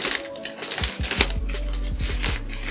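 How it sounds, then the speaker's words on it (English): A plastic Ziploc-style zipper bag holding a cosplay suit is pulled open, giving a quick run of crackly clicks and rustles up close over about two seconds, with no voices. "I'm going to open it up with this little zipper thing. It's like in a Ziploc bag."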